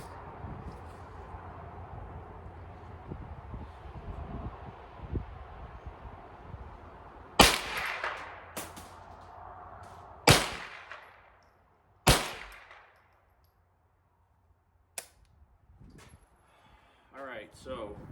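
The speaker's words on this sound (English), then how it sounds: "bench rest shooting these two rifles" .22 LR survival rifle fired from a bench rest at an outdoor range, four or five sharp, loud single cracks spaced a couple of seconds apart over a background hum and scattered handling noises.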